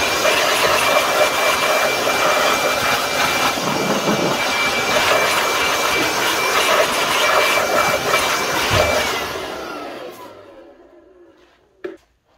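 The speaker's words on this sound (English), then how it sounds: "This is my Makita blower, and probably one of the best things I've ever bought." A Makita blower blasts air over the rocker covers of a 2005 Citroen Berlingo Multispace 1.6 16v engine. The loud, steady rushing hiss runs close for about nine seconds, then winds down and fades, with a brief knock near the end.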